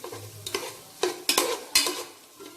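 Chopped tomatoes and three green chillies sautéing in a pan for vegetable biryani, a soft sizzle broken by several sharp spoon scrapes and stirs.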